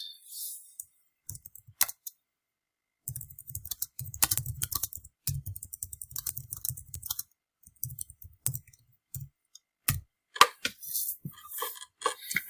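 Someone types on a computer keyboard nearby while editing an FAQ page, producing bursts of quick clicking keystrokes broken up by short pauses, with no speech.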